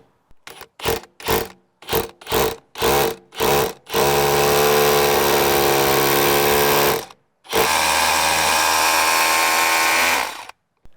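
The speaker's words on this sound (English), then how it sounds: "and then drill your holes." A rotary hammer drill bores holes into concrete stairs, first in a run of short bursts, then in two longer sustained stretches of loud, rattling hammering, close and with no talking.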